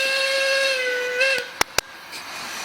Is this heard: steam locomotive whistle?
yes